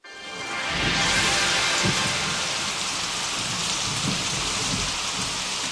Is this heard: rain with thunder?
yes